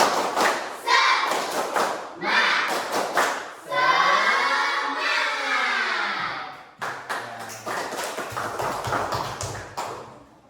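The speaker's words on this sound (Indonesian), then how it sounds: "Tepuk semangat, ya." Students in a Hindu religion class beating out a rhythmic spirit clap in patterned bursts. A long shouted group chant breaks the clapping partway through, and the clapping then resumes.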